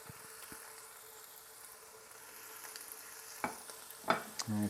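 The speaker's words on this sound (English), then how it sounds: "go ahead and cook this bacon for a little bit." Bacon sizzles quietly in a pan while being cooked for an omelette, a soft steady crackle and hiss with a few close scraping and handling noises toward the end.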